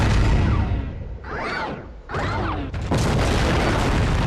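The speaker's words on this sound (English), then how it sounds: "Oh, he destroyed the monument." The Washington Monument is destroyed in War of the Monsters, shown as a loud, sustained rumbling crash with booming collapse, sweeping whooshes and debris noise throughout.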